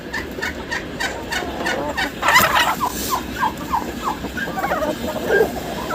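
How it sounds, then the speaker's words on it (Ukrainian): A Bourbon Red turkey gobbles in repeated bursts, fairly close, against steady outdoor evening background noise in a farmyard with a few softer bird calls mixed in. "А індик."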